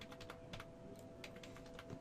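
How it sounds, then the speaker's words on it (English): A loud computer keyboard clatters under quick typing, with a rapid, uneven run of sharp clicks. The keys sound faint and a little distant against a low background hum, and nobody speaks. "God, I need a quieter keyboard."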